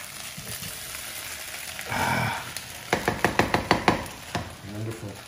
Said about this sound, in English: I think these potatoes love my frying pan.